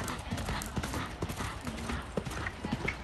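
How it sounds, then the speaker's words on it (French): Pony hooves clip-clop at a show-jumping competition, a quiet string of uneven hoofbeats on the ground with faint background murmur. "il y a un poney qui avance"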